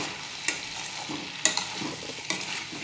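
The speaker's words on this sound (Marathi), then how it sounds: "परतून घेऊ आपण चांगली।" A dry peas and potato vegetable dish is stir-fried in a hot pan, a close steady sizzle broken by three sharp spatula scrapes and clacks against the metal.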